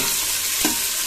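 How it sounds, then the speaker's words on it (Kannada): Onions frying in oil until golden for avarekalu vermicelli upma, giving a steady, fairly loud hiss with one brief stirring knock partway through. "ಈರುಳ್ಳಿ ಒಂದು ಸ್ವಲ್ಪ ಗೋಲ್ಡನ್ ಕಲರ್ ಬರೋ ಗಂಟ ಒಂದು ಸ್ವಲ್ಪ ಎಣ್ಣೆಲೆ ಫ್ರೈ ಮಾಡ್ಕೊಳ್ಳಿ."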